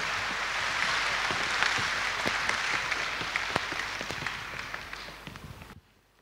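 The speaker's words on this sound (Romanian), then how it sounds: "aplauze pentru aceste cântece de neuitat" Concert audience applause after a retro duet's anniversary concert songs, a dense sustained wash of many hands clapping with scattered sharper claps, fairly loud and steady before fading and cutting off near the end.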